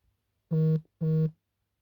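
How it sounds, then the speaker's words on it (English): Notification alert from the NGL anonymous messaging app on a phone: two short, identical tonal beeps in quick succession, clear and close, with silence around them and no talking. "So now we already received a notification on NGL."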